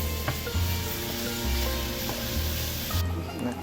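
Minced mutton, about 800 grams, sizzles and fries steadily in a pan, with dense continuous crackle, a few stirring scrapes and clinks, and no talk.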